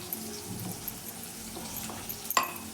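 Cumin seeds sizzle in hot oil in a pan, a steady soft crackling hiss that runs throughout, with a brief sharper clink near the end.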